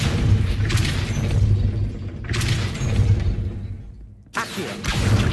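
In the Hogwarts Legacy video game, the Depulso spell is cast with a loud, booming whoosh. The blast swells, fades briefly and then hits again with a sharp burst near the end.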